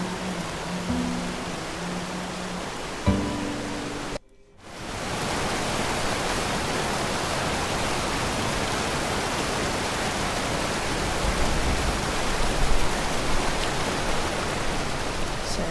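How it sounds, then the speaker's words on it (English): In the game Wanderift, a loud, dense roar of a waterfall fills the scene after a brief silence, steady and unbroken, with a low rumble swelling near the end. "the sound of the waterfall gets louder as we go"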